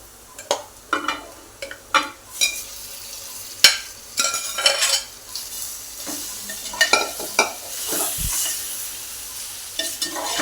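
Marinated chicken is stirred into a sizzling spiced tempering with ginger-garlic paste, a steady frying hiss broken by repeated scraping and clinking of a spoon against the pan, close and irregular, with no talk.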